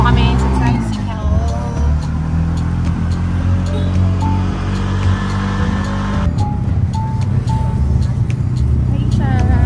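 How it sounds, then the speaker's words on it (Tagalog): Motor tricycle ride in Puerto Galera, its engine droning loud and close with low rumbling throughout, rising and shifting pitch near the end, while people talk over it. "So, dito na po kami sa tricycle."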